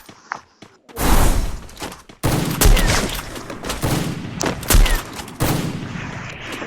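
Rapid bursts of gunfire from a Free Fire shooting video game, dense crackling volleys and single sharp shots firing in quick succession, loud and close over the game's background noise.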